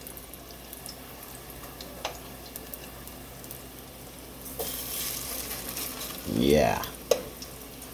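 Plantain frying in a pan on a home breakfast stove: a quiet background sizzle that swells into a louder bubbling burst near the end, with a few clicks and a brief spoken word.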